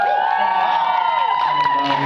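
A large fan crowd at an outdoor talk event in Hongdae cheers and shrieks loudly with excited whoops, a continuous wall of high voices filling the space.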